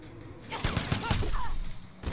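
Gunfire from a character in Mortal Kombat X, several quick loud shots in a burst mixed with fighting-game effects, with a voice talking over the action.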